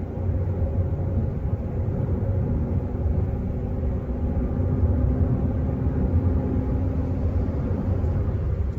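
A Tata Nexon car drives with a steady low engine and road rumble, continuous and even throughout, heard from inside the cabin with no talking.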